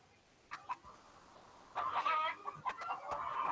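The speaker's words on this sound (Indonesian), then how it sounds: "Nah, ada suara ayam gitu ya di sini." A chicken clucks in a sound effect, a few short clucks early on followed by a louder burst of cackling and scattered clucks, close and clear with no voices.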